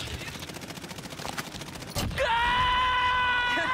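Rapid automatic gunfire rattles in quick repeated bursts in the shooter game Call of Duty Warzone Pacific, followed by a sharp report and a sustained ringing in-game tone.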